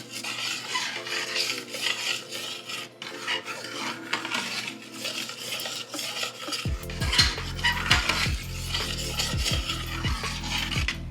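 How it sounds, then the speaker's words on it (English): A spoon scrapes and stirs through rice in a metal pot on the stove, making steady rasping and clinking strokes that grow louder and busier partway through, with a low hum underneath. "Just gonna stir it around."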